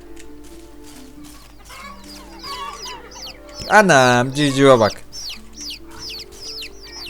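Chicken clucking in a calm farming video game, a loud burst of clucks lasting about a second near the middle, heard under and between a man's ongoing speech and softer game chirps.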